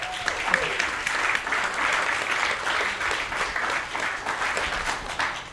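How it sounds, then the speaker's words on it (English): Applause for a panelist at a music artist forum in San Antonio, a continuous, dense wash of clapping from a seated audience that holds steady for several seconds, with faint voices murmuring beneath. "Please give him a round of applause."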